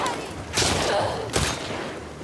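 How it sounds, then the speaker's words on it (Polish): Two sharp gunshots ring out about a second apart in the video game The Last of Us Part II, loud and close, over a constant noisy background. "tutaj dwa strzały, dwa headshoty"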